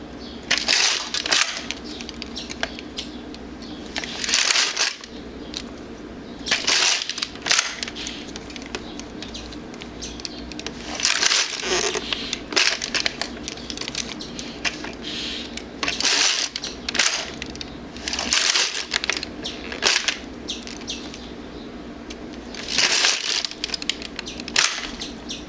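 An LK-150 midgauge knitting machine carriage works short rows, giving repeated clacking, rattling passes of a few seconds each with short pauses between, close and fairly loud, with no voices.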